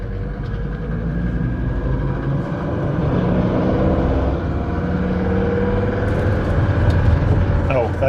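A Mercedes-Benz S123 300TD diesel estate drives in second gear with a steady, close engine drone and a slight rise in pitch, while someone talks over it.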